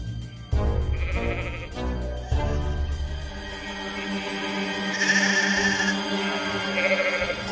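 Several goats bleat in an animated children's story, a series of loud, wavering cries overlapping one another, some high and some lower, heard up close without talk.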